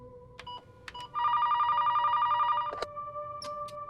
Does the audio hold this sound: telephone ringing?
yes